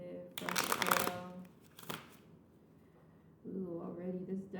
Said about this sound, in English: already this deck is feeling kind of rigid as I'm shuffling as well today